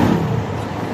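A Mitsubishi Mirage G4 engine runs loud and steady just after starting, following a fuel pump replacement, heard as a brief close drone.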